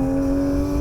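A Porsche 911 GT3 accelerates hard out of a corner on a track, its engine holding a loud, steady high-pitched note for a brief moment.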